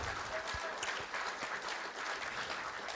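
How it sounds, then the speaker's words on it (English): Applause for students honored at a school district board of trustees meeting, a soft, fairly distant patter of clapping that holds evenly throughout, low in level. "Let's give them a round of applause tonight."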